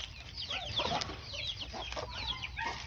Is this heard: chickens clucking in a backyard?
yes